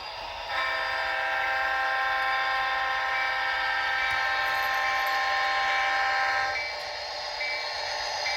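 The NS 5301 train moves along the track to be parked, a steady rumbling drone with a sustained tonal whine that swells and then drops back, fairly close with no voices.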